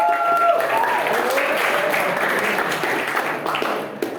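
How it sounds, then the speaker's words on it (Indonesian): Applause from a classroom audience fills the room, a steady wash of many hands clapping close by with no break, while a tone whistles faintly near the start. "Kita beri tepuk tangan sekali lagi"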